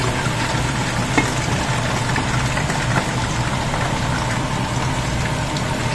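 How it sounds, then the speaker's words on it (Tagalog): Chicken stir frying in oil for crispy fried chicken, a loud steady sizzle and crackle filling the whole stretch with faint stirring scrapes underneath, close and continuous. "Stir frying."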